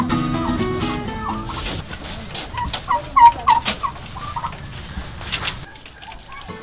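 Turkeys gobble in a noisy farm setting, several bursts of bird calls overlapping with general barnyard clamor.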